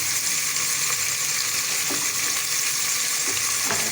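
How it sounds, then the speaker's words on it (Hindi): Chicken fries in a pot for biryani, giving a steady, close, continuous sizzle with faint stirring scrapes and no talking. "हमारा चिकन फ्राई हो रहा है।"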